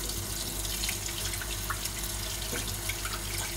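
Vegetables, including fennel, being rinsed under a running kitchen tap during meal prep, a steady close hiss of water with faint splashes throughout.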